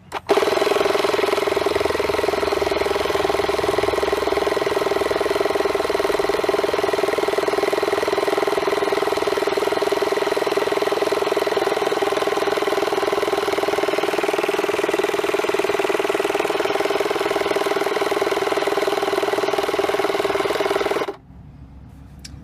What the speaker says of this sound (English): This tire doesn't need much air, but we turn it on.